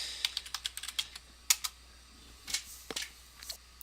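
Someone types a password on a computer keyboard, making a quick run of light, close key clicks and then a few scattered taps. The typing is soft, with no talking.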